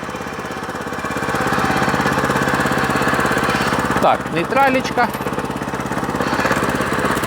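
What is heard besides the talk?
walk-behind tractor engine running with MODERN attachment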